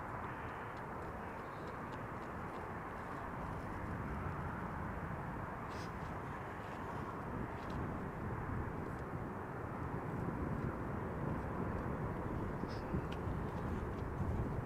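An Airbus airliner arrives at Amsterdam Schiphol Airport with a faint, distant, steady engine rumble that swells slightly toward the end, with a few light clicks over the drone.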